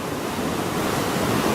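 Swollen Tunnel Brook rushes past after storm damage, its high floodwater making a steady, loud, broadband roar that holds unbroken throughout.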